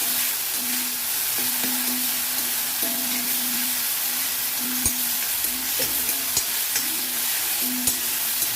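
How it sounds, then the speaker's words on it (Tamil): Tamarind sautéing in a pan for snake gourd seed chutney gives a continuous close sizzle, broken by repeated scraping stirs and light clinks of a spoon against the pan, with no voices. "இதுலேயே நல்லா வதங்கட்டும்."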